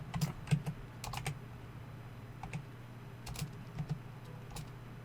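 Rapid keystrokes on a computer keyboard while a name is entered into a server search for 7 Days to Die, light clicks in short bursts over a steady low hum.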